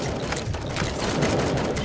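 Sustained gunfire in the video game Robocop: Rogue City, a dense, continuous barrage of rapid shots with booming impacts during a firefight, loud and steady throughout with no clear pauses.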